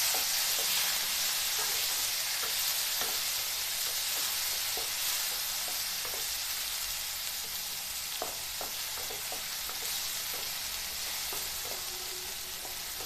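Chopped tomatoes fry in a pan of oil for dal khichdi, giving a loud, steady sizzle and hiss throughout with scattered clicks and scrapes of stirring.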